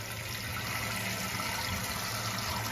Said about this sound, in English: Then I'm going to put on the water all together.